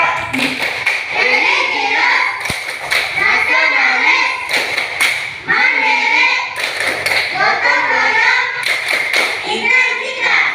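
Elementary schoolchildren standing in a fifth-grade classroom chant the rhythmic PPK clapping cheer together, loud bursts of sung words punctuated by sharp, repeated group claps in a steady pattern, close and energetic throughout.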